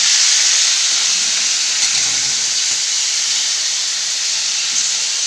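Cumin and mustard seeds hit hot oil for spinach, giving a loud, steady, close sizzle and hiss that runs unbroken throughout with no talk.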